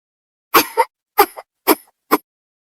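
Four short, harsh coughs in a row, close and fairly loud, each a quick burst with brief pauses between, in otherwise quiet surroundings.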